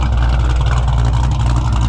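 A loud, continuous engine roar with a deep, throaty exhaust rumble from a Fox Body Mustang at an exhaust competition, held steady and close for the whole moment, with no talking.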